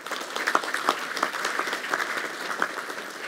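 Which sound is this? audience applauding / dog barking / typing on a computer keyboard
audience applauding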